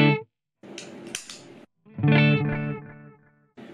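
Electric guitar played through an MXR Carbon Copy Deluxe delay pedal, giving short distorted phrases with trailing repeats, close and fairly loud, separated by brief silences.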